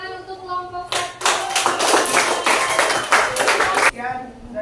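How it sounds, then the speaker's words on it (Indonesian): A classroom group claps together for a student group after their presentation, a dense burst of many hands lasting about three seconds amid background talk and children's voices. "Oke, tepuk tangan untuk kelompok 1."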